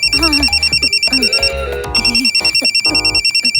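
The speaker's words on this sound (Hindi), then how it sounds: "तेरा फोन बज रहा है।" A phone rings in a steady electronic trill, repeating pulses, over a busy mix of music and background voices.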